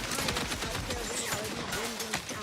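Rapid, sustained turret gunfire in the sci-fi shooter The Outer Worlds 2, a dense clattering burst running steadily throughout at moderate loudness with game sounds layered over it.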